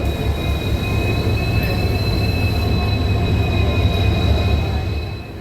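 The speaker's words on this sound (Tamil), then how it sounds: "நம்மளோட ட்ரெயின் தூரத்தில் தெரியுது பாருங்கள்" A train arriving at a station rumbles steadily with a low heavy drone and faint high metallic squeal, continuous and fairly close, no voices.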